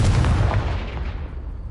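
A Confringo blasting spell explosion in Hogwarts Legacy, a loud deep boom with heavy low rumble that decays over under two seconds, close and alone.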